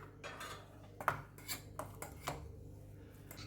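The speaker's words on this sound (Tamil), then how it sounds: "அதில் அந்த க்ரீம் போட்டு நல்லா மிக்ஸ் பண்ணுறேன்" Butter and cream being mixed together in a bowl, with a spoon or whisk tapping and scraping against the bowl in a few faint, irregular clinks over a low steady background hum.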